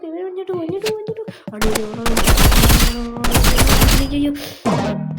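Rapid automatic gunfire from the Roblox shooter game Rivals crackles in dense bursts, loud and close, with a voice talking over the shots.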